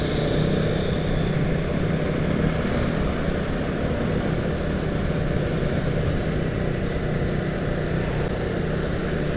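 Motorcycle riding along a road in Bekasi, its engine and wind rumbling in a loud, steady, unbroken roar with no talk.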